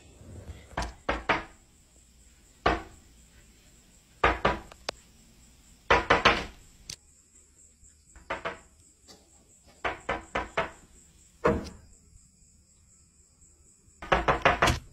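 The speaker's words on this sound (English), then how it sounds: "after two more nights of this strange late night visitor knocking at her front door" Late-night knocking on a front door, sharp bursts of raps in irregular clusters of two to four, close and loud, separated by silent pauses, with a faint high steady tone behind.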